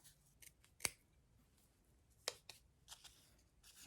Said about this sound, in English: Just cut through the backing. Just little baby snips all the way around.